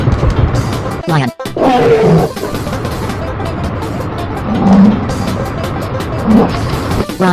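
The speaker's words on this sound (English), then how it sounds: "Lion." A lion gives deep, rumbling roars that come in several swells through the sound of a wild-animal sequence for children, loud and close, with a brief drop-out near the start.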